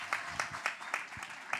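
Brief, faint clapping from an audience at a literary and poetry panel on a stage, a few scattered claps over about a second and a half.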